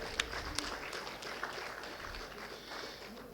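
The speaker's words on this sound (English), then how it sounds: "I was expecting a very big round of applause." A feeble round of audience applause at a university alumni association gathering, thin, scattered clapping held at a low level for a few seconds with a few sharper claps standing out.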